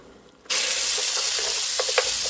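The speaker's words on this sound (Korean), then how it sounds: "그 다음에 소고기 볶아줄게요" Beef stir-frying in oil in a pan, a loud sudden sizzle that bursts in and holds steady, close, with a few faint scraping ticks of the utensil underneath.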